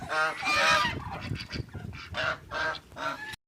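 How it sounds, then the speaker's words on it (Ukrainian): Geese honk repeatedly in loud, nasal bursts, several calls overlapping close by, with quieter gaps of farmyard noise between them. "Лишилося дві гусочки гусак, три білих качечки і один качур."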